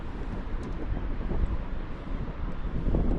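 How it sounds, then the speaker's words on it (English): Steady wind rushes over a sailboat anchored in about 54 feet of water in an 8 to 10 knot breeze, a continuous broadband roar buffeting the microphone with no talking. "We're getting 8 to 10 knots of wind at the top of the mast."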